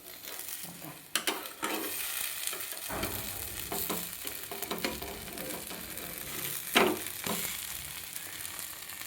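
An uttapam frying on a hot pan after being flipped, with a soft, steady sizzle broken by a few sharp spatula and utensil clacks against the pan, no talking.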